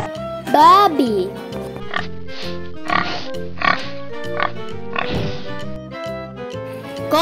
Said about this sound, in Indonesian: babi